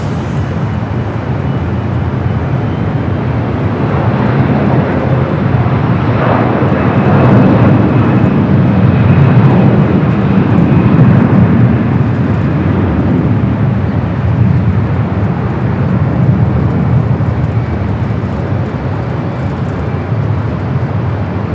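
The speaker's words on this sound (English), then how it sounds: "We do have an A330 heading to Honolulu, now rolling down at 25 right." Airbus A330 jet rolling down runway 25 right at LAX, bound for Honolulu; a steady, loud, broad engine roar holds throughout with slowly swelling rumble and no talk.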